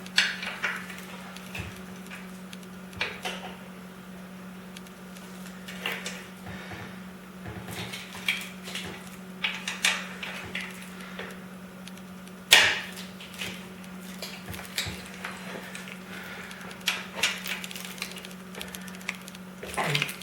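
Metal clinks and ratcheting taps of a wrench working the rocker box bolts on a Harley Sportster XL883L, irregular and close, with a low steady hum underneath.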